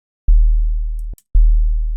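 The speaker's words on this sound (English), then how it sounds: "It's a sine wave, okay? Just a sine wave. And we get this crazy sound." A pure synthesized sine tone from a free sound-design plugin hums low and steady, cutting off briefly with a tiny click before sounding again.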